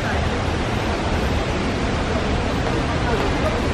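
Broad steady roar of rushing water from a waterfall on a rocky tour route in Taiwan, constant and fairly loud with no breaks.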